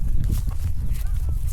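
A horse walks along a trail on Hawaii's Big Island, its hooves giving soft, uneven clip-clops close by over low rustling and outdoor noise.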